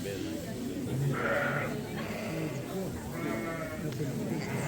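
Ewes on a sheep farm bleat several times from nearby, a few overlapping calls rising over steady outdoor background noise, with people talking quietly underneath.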